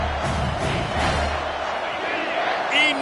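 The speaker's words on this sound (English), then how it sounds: "this crowd is bringing down the house" A dense football stadium crowd roars loudly before a third-down play, a sustained broad wall of cheering with shouts and whoops throughout.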